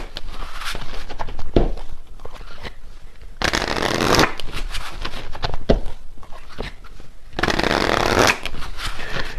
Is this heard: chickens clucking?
no